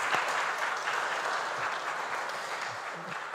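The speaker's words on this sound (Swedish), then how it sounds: "Jag tycker en applåd är faktiskt på sin plats." Steady, dense applause from a concert audience fills the room without pause as chamber musicians are introduced on stage, the clapping even and sustained throughout.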